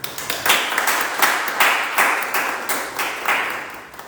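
Audience applause after a spiritist lecture at a spiritist centre, a steady room of clapping with several rhythmic surges, moderately loud and close, with no talking over it.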